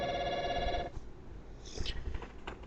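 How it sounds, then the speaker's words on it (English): A telephone rings with an incoming call, a steady electronic tone lasting under a second, then quiet room sounds with a few faint clicks. "We're just going to ignore that phone call."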